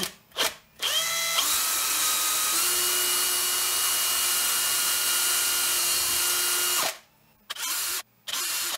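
A power drill whirs at high speed for several seconds after a few short starts, boring a 2.5 mm hole, its pitch dropping slightly under load, then stutters off in brief bursts.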